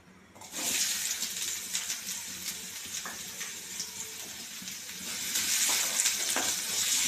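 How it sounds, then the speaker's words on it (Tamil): Onions dropped into hot oil for liver fry burst into a loud, hissing sizzle that holds steady with light stirring scrapes, swelling again near the end, with no one talking. "பொரிஞ்சிருச்சு வெங்காயத்தை ஆட் பண்ணிடலாம்"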